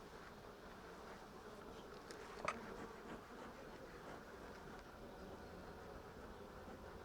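Steady, dense buzzing of many honey bees around an open hive at close range, a continuous drone with a brief sharper burst near the middle.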